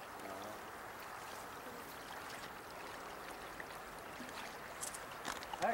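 Small Alaskan stream, Quartz Creek, flowing in a faint, steady trickle and rush, with soft splashes toward the end.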